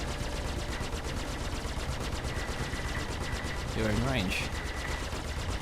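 Spaceship guns firing rapidly in the Star Citizen video game, a Super Hornet dogfight, with fast rhythmic bursts running throughout under a voice and a brief game voice prompt.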